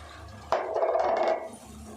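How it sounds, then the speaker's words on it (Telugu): Water poured into a pan of onion and tomato curry gravy, a steady splashing pour that starts suddenly and runs for about a second before fading, quiet and alone. "అదే ఇప్పుడు మనం ఈ వాటర్ పోసేసాము కదండి వాటర్ పోసేస్తాను"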